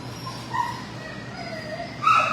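A dog at a kennel or shelter gives faint, high yips and thin whimpers, a few short cries scattered over a quiet background and ending in a louder squeak.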